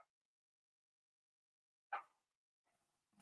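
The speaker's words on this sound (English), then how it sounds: "So, Robbie, can you hear my dogs barking in the background?" Dogs bark in the background, a couple of faint, distant yaps separated by long near-silence, with a brief rustle near the end.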